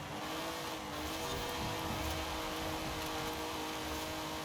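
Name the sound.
stock car engine racing in video game Forza Horizon 5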